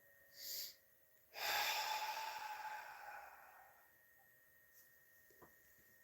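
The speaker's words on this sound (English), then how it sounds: "we're breathing in through the nose" A short sniff, then one long, deep inhalation through the nose during a guided breathing exercise, close and breathy, tapering off slowly into near silence.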